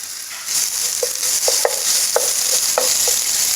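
Steady sizzling of ginger garlic paste frying in a hot pan, with a few soft stirring scrapes and taps scattered through; no one speaks.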